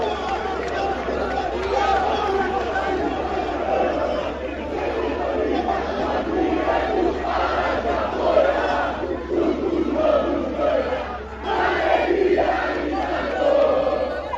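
Football supporters crowd together at an airport, a dense roar of chanting, shouting and chatter with bursts of cheering rising and falling throughout, loud and continuous with voices mixed in.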